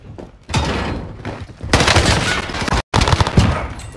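Loud gunfire in a video game, dense rapid bursts filling most of the clip, with one brief gap of silence near the end.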